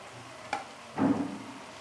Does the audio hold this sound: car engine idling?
no